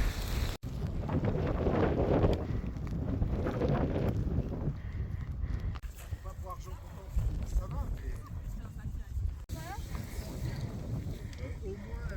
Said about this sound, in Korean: 바람이 불고 있어요.